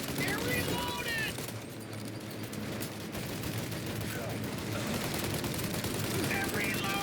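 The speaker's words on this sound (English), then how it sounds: "Shoot out their gun when there's a break in the fire!" Sustained automatic gunfire in a shootout in the video game Mafia Definitive Edition, rapid bursts rattling continuously at high volume with brief lulls.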